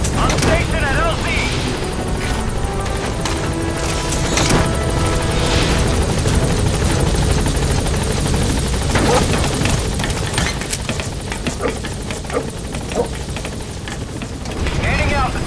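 The Pequod helicopter in Metal Gear Solid 5 arrives at a landing zone with a loud, continuous rotor thrum and engine roar, while distant gunfire crackles and radio voices talk over it.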